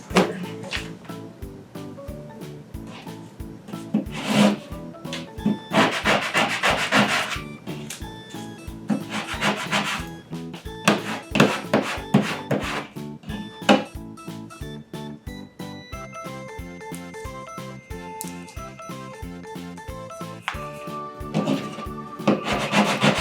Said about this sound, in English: I'm just going to burnish that